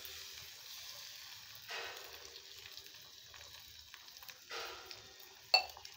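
Beaten egg poured into a hot kadai for egg bhurji, a soft steady sizzle with two brief surges of frying hiss and a sharp clink near the end, quiet and close with no talk.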